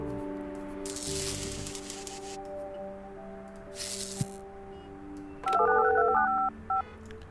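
Telephone keypad tones beep in a quick sequence of dialing in the video game Project Highrise, preceded by soft whooshing game sounds over a low steady hum.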